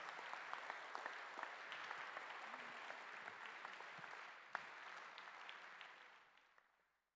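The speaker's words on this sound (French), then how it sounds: "Merci de l'applaudir." An audience at a rugby congress applauds in a dense, steady wash of clapping that holds for several seconds, then fades away toward the end.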